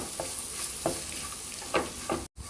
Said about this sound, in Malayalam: മിക്സ് ചെയ്യാം.